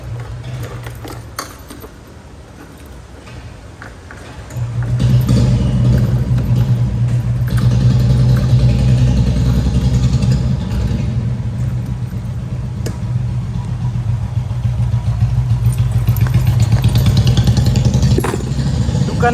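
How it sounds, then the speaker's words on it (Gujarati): Honda Activa scooter in a parking area starting up and pulling away: quiet idle clatter, then a steady louder engine drone from about five seconds on that holds as the ride continues, close to the rider, no talk. "ઉપાડી આપણી એક્ટિવા લઈએ ને નીકળીએ"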